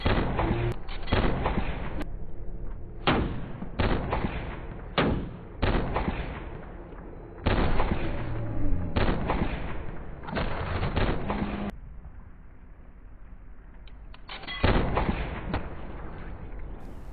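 Gunfire from a Smith & Wesson Model 29 revolver in a film action scene, heavy booming shots in an irregular string of loud blasts with reverberant tails, mixed with other battle noise.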